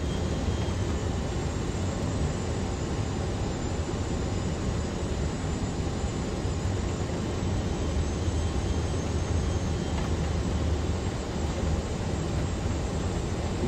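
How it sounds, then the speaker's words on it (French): Inside the cockpit of an airliner on final approach to London City Airport, a loud, steady broadband roar of engines and airflow fills the cabin continuously without letup. "Voici maintenant l'approche vue du cockpit"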